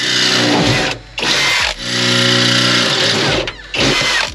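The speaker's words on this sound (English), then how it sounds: "We'll finish drilling." A power drill whirs loudly up close in several bursts while working on a Nissan 350Z, spinning up and cutting off with short pauses between runs.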